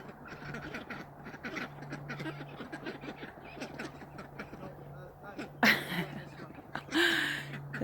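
A flock of ducks quacks continuously nearby outdoors, a busy chattering chorus with a few louder honking calls toward the end.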